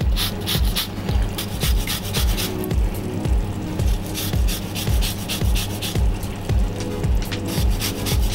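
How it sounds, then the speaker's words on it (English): Lemon zest being grated for a lobster dish with lemon butter sauce: a steady, rhythmic rasping scrape repeating several times a second, close and fairly loud, with no talking. "Then add some lemon zest."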